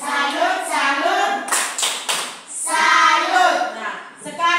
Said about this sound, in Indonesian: kita tepuk salut dulu